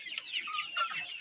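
Young Araucana chickens cluck close by in a quick run of soft, rising and falling notes, with no other sounds around them.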